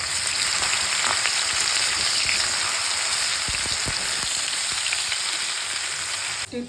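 Marinated okra frying in mustard oil, a steady close hiss and sizzle in the pan with a few small pops and crackles, no talking.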